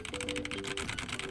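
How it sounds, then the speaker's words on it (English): Rapid, steady typing on an Endorfy Thock 75 wireless mechanical keyboard: dense crisp key clicks close up, with no talking. "the keyboard has a pretty not thocky sound profile"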